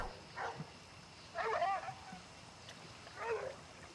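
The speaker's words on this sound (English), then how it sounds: "The same as before, but now with the dog barking," Dog barking in a scene from the film Funny Games: three faint, distant barks spaced a second or two apart, heard alone over a quiet background hush.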